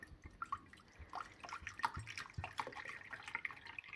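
Purified water poured into a container, a steady trickling and splashing with small drips, moderately quiet and close.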